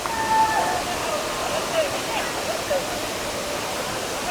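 Water crashing down at Didupe waterfall, a dense, continuous roar of broadband rushing noise that stays loud and steady throughout, heard close to the torrent with no clear talking over it.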